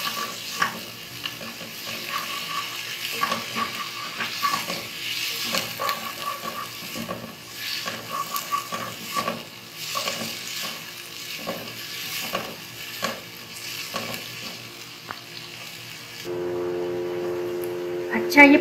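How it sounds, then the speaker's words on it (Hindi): Chopped onion and garlic fry in butter in a pan, a steady soft sizzle with stirring scrapes throughout, then a brighter, steadier hiss near the end. "प्याज और ये लहसुन चॉप, इनको थोड़ा सा हमने फ्राई करना है बटर में।"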